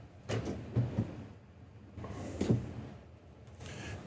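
Deep drawers slide open and shut inside a 2024 Nexus Ghost 37DS motorhome, several soft rolling thumps in an uneven rhythm, close by and moderately quiet.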